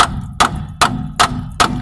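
A hammer strikes a rusted Toyota strut part five times at an even pace, each hit a sharp metallic clang with a ringing tail, close and loud with no talk.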